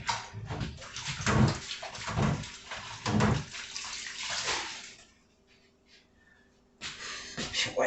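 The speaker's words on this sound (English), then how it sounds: "let me wash my hands right quick." Tap water runs over hands being washed in a home kitchen during baking, a close, rushing splash that swells and dips for several seconds, stops briefly, then restarts.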